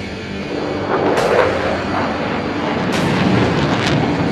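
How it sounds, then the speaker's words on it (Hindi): A Solo Türk jet flies a loop at a Pakistan Day air show, a loud, continuous roaring rumble with a couple of sharper surges, heard from a distance outdoors. "सोलो तुर्क इस वक्त आपके सामने लूप का मुजाहिरा पेश कर रहा है"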